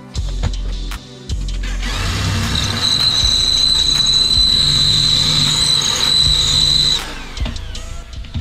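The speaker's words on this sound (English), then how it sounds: "Drill a very big hole" A power drill whirs, then bites in, drilling a very big hole in a custom fender for a Razor Rambler 16 electric scooter, with a sustained high-pitched whine for several seconds before winding down, loud and close.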